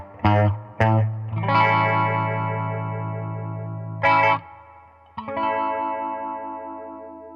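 Clean electric guitar played through a Warm Audio Mutation Phasor II, with several strummed chords that ring and sustain under a sweeping, swirling phase effect, separated by short pauses.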